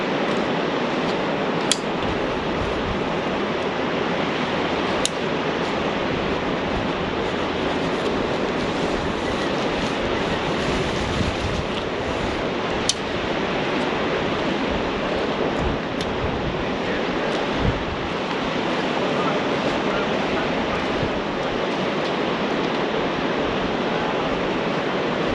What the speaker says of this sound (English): The river in the valley sounded just like a white noise machine.